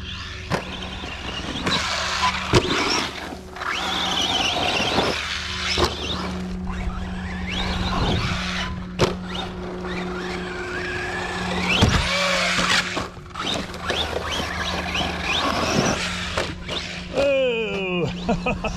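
An ARRMA Vorteks RC car drives and races on a run, its electric motor whining loudly and steadily, with rising and falling pitch as it accelerates, brakes and takes corners, plus scattered bumps and clatter over about nineteen seconds.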